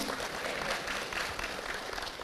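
Applause from a church congregation during a sermon, a steady wash of many hands clapping at moderate distance, without speech over it.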